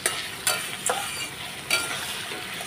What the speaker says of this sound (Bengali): আলুটা ভেজে একটু নাড়া দিয়ে নিই